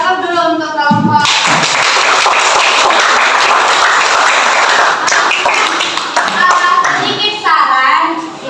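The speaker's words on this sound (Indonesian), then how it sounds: "kita kasih aplaus dulu untuk kelompok" A classroom group receives a burst of dense, lively applause lasting several seconds. A voice is heard just before it starts, and children's chatter rises as it fades.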